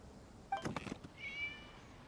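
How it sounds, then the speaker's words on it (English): Cat meowing in the Genshin Impact video game: a short, faint meow followed by a thin, drawn-out higher meow, fairly quiet with a soft background. "It was just a cat."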